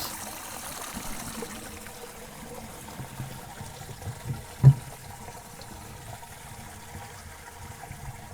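Water flows from a white pipe into a small backyard creek feeding a pond, a steady soft trickle and gurgle that holds throughout, with one brief louder splash near the middle.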